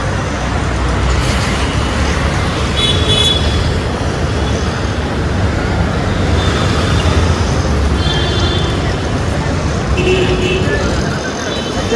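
Road traffic on the Kalyan highway at midday, a loud, steady roar of cars, buses and trucks passing close with engine rumble and occasional horns, voices mixed in.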